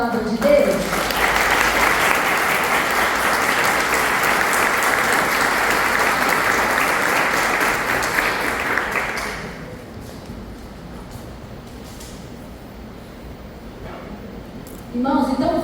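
A church congregation bursts into strong, even applause for the word of God, clapping loudly for about nine seconds before it stops abruptly, leaving quiet room tone and a voice resuming at the end.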